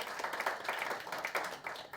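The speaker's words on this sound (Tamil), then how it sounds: "நல்ல பலமாக நீங்கள் கைத்தட்டலாம்." An audience clapping together in a hall during a Tamil literature talk, a steady, fairly close burst of applause lasting a couple of seconds.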